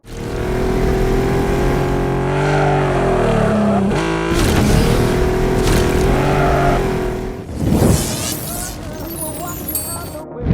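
A car engine from a mobile arcade racing video game drones loudly and steadily with shifting revs, breaking up near the end into a brief clatter of game effects.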